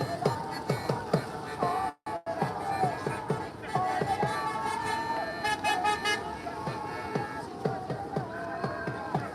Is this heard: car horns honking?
yes